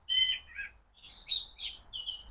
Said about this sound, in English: Blackbirds. Blackbird.